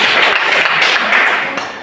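Loud, dense applause in a classroom learning session, a steady wash of clapping that holds for under two seconds and fades slightly at the end.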